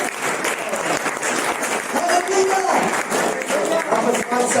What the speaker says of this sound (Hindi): बस ताली बजाओ।